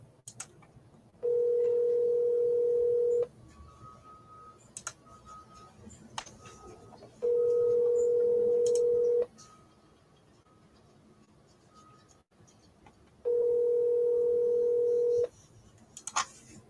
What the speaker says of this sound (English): Calling again. Triple dial.